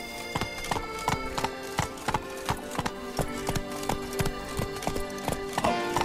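Roach, the horse in The Witcher 3: Blood & Wine, clip-clops along at a steady trot, each hoof strike crisp and close over a bed of in-game ambience and music, with no talk.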